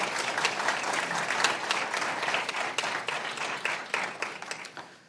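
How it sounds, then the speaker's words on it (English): A summit audience gives a round of applause, many hands clapping close and lively with distinct individual claps standing out, the sound gradually thinning toward the end. "can we just give a round of applause just for AJ Placken and everything he's been doing?"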